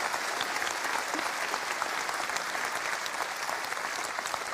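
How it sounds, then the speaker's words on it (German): Evening show audience clapping for a guest on stage, a sustained, even wash of applause from a crowd, moderately distant and without pauses. "So mal einen Applaus"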